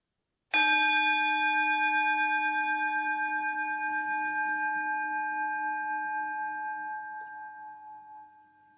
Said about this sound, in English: We'll begin with the sound of the bell, waves of sound.